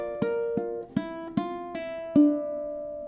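Ukulele playing ending 2 of a song, with five plucked or strummed notes in a steady rhythm, then a final chord left ringing, clear and close with no talking.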